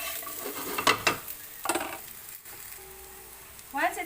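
Half a cabbage cut small is stirred and stir-fried in a pan: a few scraping, tossing strokes over a low sizzle, close by, with quieter pauses between stirs.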